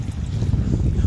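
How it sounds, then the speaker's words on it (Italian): Strong wind gusts against the microphone beside the water at a fishing spot, a dense, steady low rumble without any voices. "In realtà sta tirando su ancora, sto vento è imbarazzante, cioè incredibile."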